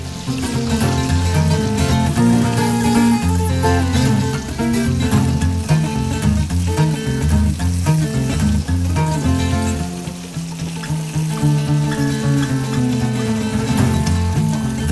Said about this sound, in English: Just gonna put it in there, fry it up.